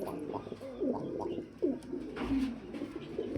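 Fancy Indonesian pigeons coo in a few soft, rolling calls close by, with brief pauses between phrases and light background noise.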